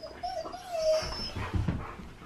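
A puppy whimpers and yips while playing with another dog, with thin high whines rising and falling near the start and soft scuffling, panting sounds close by.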